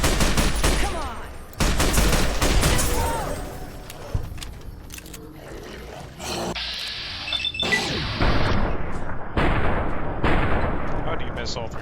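Gunfire in Fallout: New Vegas, loud sharp shots bursting in clusters with crashing impacts, broken by quieter gaps and a short tonal game sound midway.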